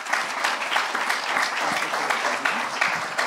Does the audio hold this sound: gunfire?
no